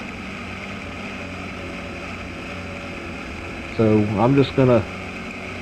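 E-modified dirt track race cars at Waycross Motor Speedway make a steady, distant engine roar that fills the whole stretch, and someone speaks briefly near the end.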